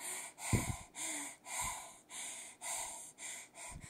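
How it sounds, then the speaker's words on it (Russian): A woman breathes heavily and puffs while walking toward a shopping centre, with rhythmic, close, loud exhalations roughly every half second. Brief low snorting bursts are mixed in. "прямо идет к торговому центру и пыхтит"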